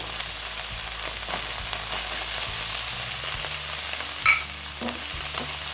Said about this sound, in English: So we are just going to stir fry this